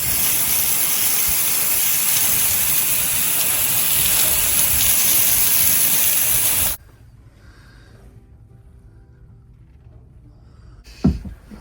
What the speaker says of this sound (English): So I'll go man the hose.